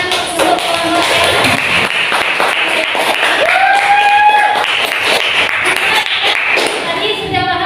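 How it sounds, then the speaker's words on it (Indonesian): A classroom audience claps for a student group that has just presented in a Qur'an and Hadith lesson. The dense, steady clapping runs throughout, with voices and scattered thumps mixed in. "Kita berikan tepuk tangan untuk kelompok yang"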